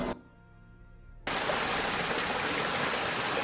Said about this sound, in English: This one is a full river.